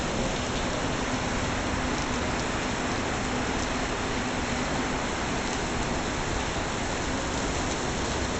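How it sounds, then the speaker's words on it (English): Heavy rain pours on Royal Street in the French Quarter during a thunderstorm, a dense, steady hiss with no break and no voices. "Pouring rain up Royal Street, and nobody really cares."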